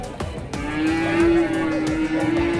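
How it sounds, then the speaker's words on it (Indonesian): Beef and feeder cattle at the Glenmore livestock market let out a long, loud, steady moo close by, with clatter and faint crowd noise of the busy market around it. "Sapi bakalan atau sapi potong yang berada di pasar hewan Glenmore lur."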